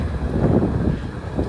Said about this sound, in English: I hope you can hear some things I say because it's hella windy here.